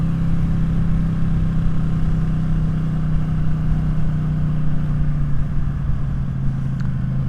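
Close, continuous bark of a Ducati Streetfighter on a silencer-free Arrow exhaust under full throttle, holding a steady, gritty pitch before the note roughens and eases slightly toward the end.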